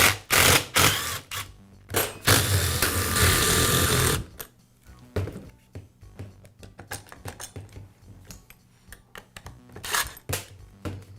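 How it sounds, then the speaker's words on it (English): Loud, rapid rattling and buzzing from a Milwaukee Sawzall, then a string of sharp metallic clicks and small clinks from removing its gear case cover, close and uneven. "Next, I'll remove the gear case cover."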